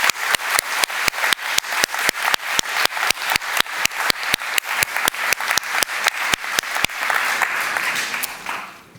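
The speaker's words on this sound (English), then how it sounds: "Let's have a big applause for you too" A festival audience claps in unison at a quick, steady beat of about three claps per second, loud and even, then breaks into a looser wash of ordinary applause near the end.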